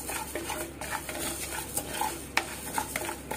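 Green gram (mung beans) dry-roasting in a pan as a spoon stirs them, giving a dry scraping and rattling with light clinks against the metal, steady and close.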